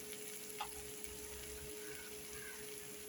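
Tomatoes and onions being stirred in a pan with ground coriander and spices, giving a steady soft sizzle close by with one brief clink of a spoon, faint and continuous.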